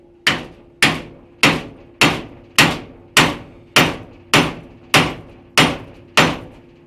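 A homemade wooden tool struck repeatedly with a hammer to drive a knife guard down onto a blade, twelve sharp, loud, evenly spaced blows with short ringing decays, alone.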